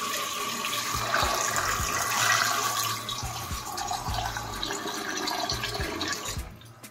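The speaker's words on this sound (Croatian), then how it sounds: "Nalićemo ih vodom." Water runs from a tap and pours into a cooking pot holding beef tripe, a steady splashing rush that holds throughout, close up and fairly loud, with soft knocks and clinks beneath.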